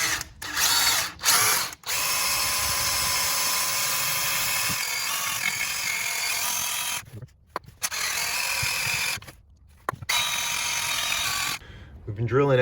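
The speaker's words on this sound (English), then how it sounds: "we're gonna start drilling out those rivets" A power drill bores out rivets on a Chevrolet Sonic during ball joint replacement, whining in long loud bursts that stop and restart between short pauses.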